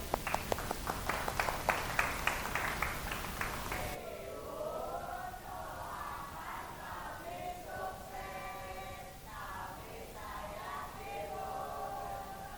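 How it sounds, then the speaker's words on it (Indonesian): A classroom claps briefly at the end of a microteaching lesson, a short burst of scattered hand claps that stops after a few seconds, followed by quieter murmuring voices and room noise. "Oke, tepuk tangan."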